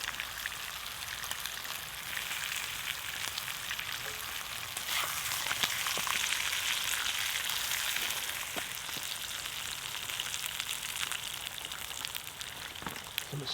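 Food searing in a pan with garlic over an outdoor campfire under a tarp, a steady, soft crackling sizzle with scattered sharper pops, close and moderately quiet, without talk.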